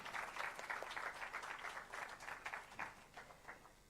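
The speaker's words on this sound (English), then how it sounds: "can we have a round of applause for Lavanya" An audience at a symposium applauds a speaker: soft, steady clapping from a room full of people, heard a little way off, tapering slightly toward the end.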